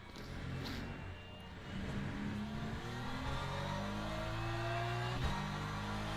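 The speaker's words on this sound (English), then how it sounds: "You can hear the engine nicely now." Race car engine in the Le Mans Ultimate racing game, a steady sustained roar with rising and falling revs and gear changes, loud and continuous throughout with no talking.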